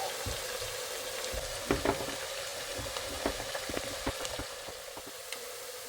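Vegetables for a meatless borscht fry in a cauldron-style pot, giving a low, steady sizzle with scattered soft pops and crackles at close range.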